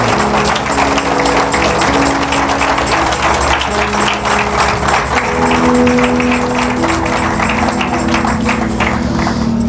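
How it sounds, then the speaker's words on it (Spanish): A church congregation applauds continuously, a dense, loud wash of many hands clapping with a steady rhythm that persists throughout, backed by a low instrumental drone. "Denle un fuerte aplauso a Dios"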